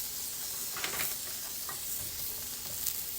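Burger bun tops sizzling on a hot grill for seasoned chicken burgers, a steady close frying hiss with scattered crackles and pops throughout.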